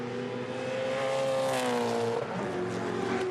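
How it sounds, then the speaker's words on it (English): A touring race car at Queensland Raceway roars past on the final lap, its engine note loud and sustained with a rising, then falling pitch as it sweeps by. "John Bowe, the ever impressive John Bowe, heading for home here on the final lap of race number 2"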